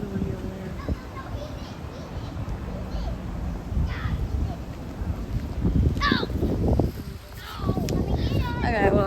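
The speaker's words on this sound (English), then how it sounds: "it's like super windy over there" Strong wind buffets the microphone outdoors at Yogi Bear's Jellystone Park during a storm, a loud rumbling roar that persists throughout while children's voices and other talk come through faintly underneath.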